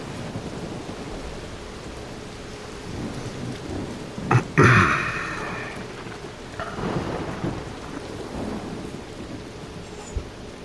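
A thunderstorm rolls through in the video game ARC Raiders: steady rain hiss underlies a sudden sharp thunder crack with a booming decay, followed by lighter rumbles and a faint later knock.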